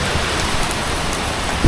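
Dense, loud downpour of heavy rain hammering a surface, a constant close roar with no voices.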